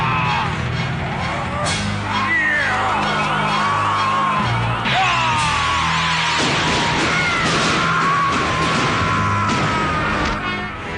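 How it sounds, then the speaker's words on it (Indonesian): Dramatic yelling and whooping from a man in an Indonesian legend drama, loud and rising in repeated shouted bursts over a busy, crashing soundtrack with crowd-like noise. "Suara teriakan Raden itulah yang membuat saya cepat temukan Raden."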